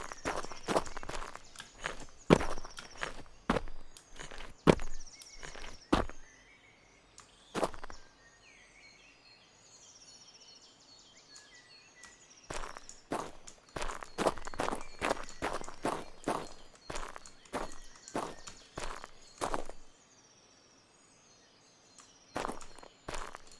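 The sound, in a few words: footsteps and ambient sounds in Road to Vostok video game dev build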